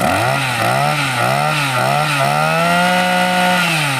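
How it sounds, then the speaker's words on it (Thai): A used Japanese Maruyama brush cutter's small two-stroke engine revs up and holds at high speed, a loud, close, buzzing whine that rises and dips before steadying. "เดี๋ยวลองให้เจ้านิ้ง อ่า สตาร์ทดูเป็นลานดึงปกติ อ่า หนักไหม ไม่หนักค่ะ ไม่หนักนะน้ำหนักเบาด้วยนะครับ4โลครึ่ง อ่าเร่งดูลูก"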